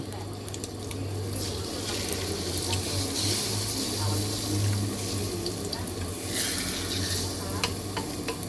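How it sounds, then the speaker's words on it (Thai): Beaten egg fries in a pan into a thin omelette sheet, giving a loud, steady, close sizzle that runs without a break from start to finish. "ก็คือทอดไข่ออกมาให้มันเป็นแผ่นๆก่อน"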